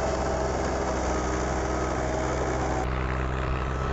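A Mahindra 275 DI tractor working a 6-foot rotavator in low third gear, its engine droning steadily and loudly at full throttle with a continuous mechanical hum throughout.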